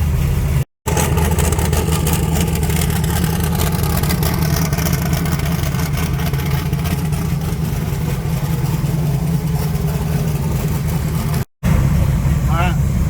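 A 1980 Pontiac Trans Am engine warming up, running loud and steady with a strong low rumble and occasional revving swells, close by, with two brief cuts to silence and some talk over it.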